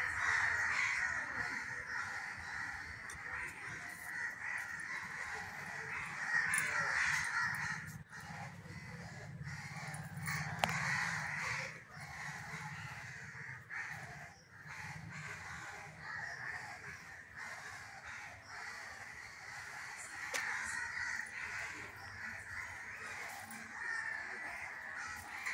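Crows cawing and other birds calling outdoors around a home garden with lemon and mango trees in the evening, faint and distant against steady background noise, calls recurring throughout.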